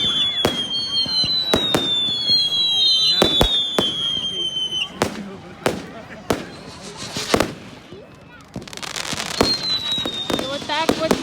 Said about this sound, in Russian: И вот так вот будет барабанить 10 минут фейерверки в честь этого праздника.